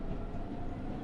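A Minecraft train rolls along its rails with a low, steady rumble and a faint rhythmic rattle, continuous and fairly quiet, with no one talking over it.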